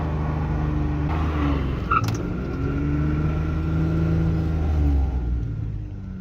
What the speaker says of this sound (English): we just did that burnout